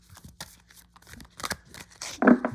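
Soft, irregular riffling and flicking of an oracle card deck being shuffled close by, ending in a louder snap of cards.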